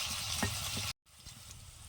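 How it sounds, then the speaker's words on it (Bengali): Potatoes fry in hot oil seasoned with salt and turmeric, a close, dense sizzle with light stirring knocks, briefly cut off and then resuming more quietly. "একটু লবণ আর হলুদ দিয়ে কিন্তু আমি আলুটা ভেজে নেবো"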